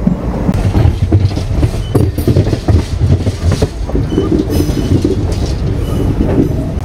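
A passenger train on the Kollam to Chennai Egmore line runs at speed, with a steady loud rumble and rattling wheel clatter throughout and no voices.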